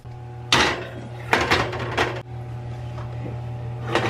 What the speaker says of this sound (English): do a little tapping to get a little settlement